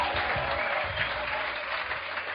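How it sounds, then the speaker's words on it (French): Congregation at a church service in Geneva clapping, a full steady wash of applause from many hands filling the room for a couple of seconds. "Give Jesus a mighty clap offering."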